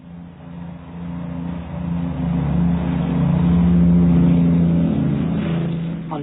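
An aircraft engine drones steadily as it takes off from the Heathrow runway on a 1946 proving flight, a low sustained roar that swells louder and then eases slightly, heard alone without voices.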